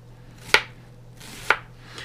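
Onions are sliced with a knife on a cutting board, two crisp, sharp chops about a second apart and a fainter third, close and distinct against a low steady hum.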